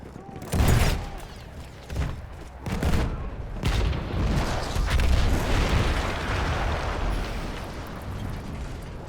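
Heavy booms and rumbling blasts from an artillery gun blown up in the Battlefield 1 video game campaign, with a few sharp impacts early on, then a sustained roar of explosive noise.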